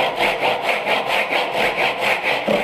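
A hand saw cuts wood for a bridle joint in quick, even back-and-forth strokes, about five per second, each a raspy close-up rush that swells and fades rhythmically, with no one speaking.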